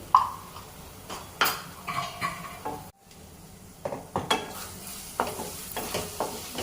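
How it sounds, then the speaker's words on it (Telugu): Fish and onions frying with turmeric in a pan, a soft sizzle under intermittent close scrapes and clinks of a utensil against the pan, with a brief pause midway. "పచ్చి వాసన పోయే వరకు మనం దీన్ని వేయించుకొని"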